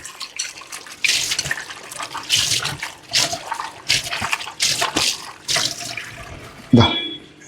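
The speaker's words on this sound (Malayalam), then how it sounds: "ഇത് ചെറിയൊരു ബൗളിലേക്ക് മാറ്റുക എന്നിട്ട് നല്ല രീതിക്ക് വാഷ് ചെയ്യുക" Rose apples washed in a small bowl of water: several bursts of splashing and swishing come and go, with a brief louder slosh near the end.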